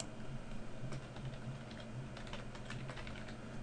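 Quick, soft keystrokes on a computer keyboard, typed into a Windows 7 search box, come as a short irregular burst of light clicks against a steady background hum.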